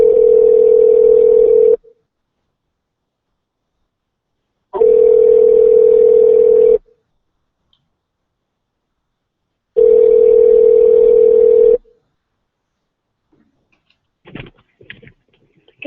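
Steady telephone dial tone sounds in three separate bursts of about two seconds each, with silence between them, followed by a few faint clicks at the end.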